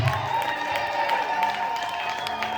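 A church congregation bursts into sustained applause and crowd cheering during a sermon, dense clapping carrying on steadily throughout with voices mixed in.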